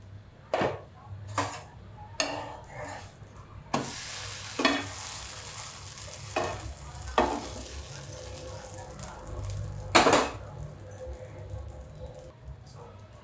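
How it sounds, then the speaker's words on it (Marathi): A pan lid is lifted off while amboli cooks, amid a soft continuous sizzle with scattered metallic clanks and scrapes, the loudest clatter coming near the end; no voices are heard. "झाकण काढते"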